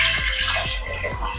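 Water poured into green moong dal for a chapathi side-dish gravy, a steady close splashing rush with low gurgles, continuous throughout with no talk.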